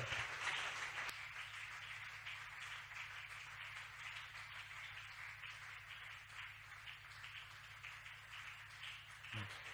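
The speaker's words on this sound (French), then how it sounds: "nous acclamons très fort pour le Seigneur" A church congregation welcoming Prophet Marco Marcossa applauds and cheers in a dense, sustained wash of clapping that sounds distant and fairly faint, with voices mixed in.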